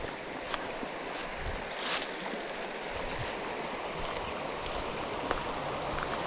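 A small mountain stream tumbling through pocket water on a brown trout fishing trail, heard as a steady, close, broadband rush of flowing water with no talk over it.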